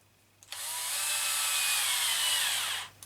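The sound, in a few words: driving shouldered-head screws with a screwdriver bit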